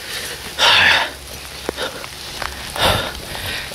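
Steady rain falling outdoors, a continuous broadband hiss with scattered drop hits and a few louder splashy gusts, fairly close and without speech.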